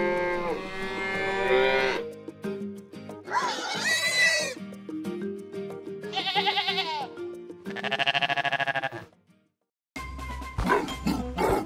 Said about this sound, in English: Time to visit Mr. Gorilla's happy cattle on this pleasant cloudy day.